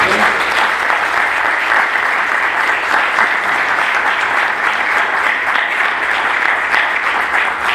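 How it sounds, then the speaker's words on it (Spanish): A conference audience at a Jesuit university breaks into sustained, even applause lasting several seconds, a dense wash of many hands clapping at a steady level without pause. "Les pido un aplauso de reconocimiento."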